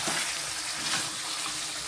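Chicken curry with potatoes stir-frying in a pan, a steady hissing sizzle throughout with faint scraping of stirring, close and even in level; no talking.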